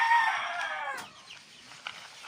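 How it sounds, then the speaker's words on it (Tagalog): A rooster's strained crow fades into a few short, sharp clucks, close and fairly clear, with no talking. "Ayun yung manok ko."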